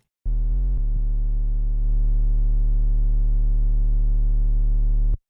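Triangle-wave synth tone from Serum, a steady sustained note with clear harmonics, loud and alone, after a brief stuttered start, holding for about five seconds.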